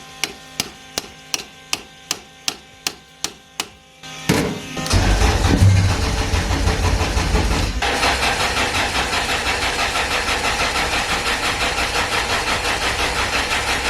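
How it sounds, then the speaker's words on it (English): Starter motor on a Honda B-series car engine cranking in about ten sharp, evenly spaced clicks, then a loud burst into a continuous heavy whirring drone that holds steady to the end without catching. "Now the starter."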